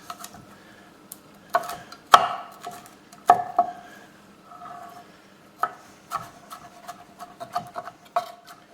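Garlic cloves chopped on a board with a knife: a string of sharp, uneven close knocks, some single and some in quick pairs, separated by quiet gaps.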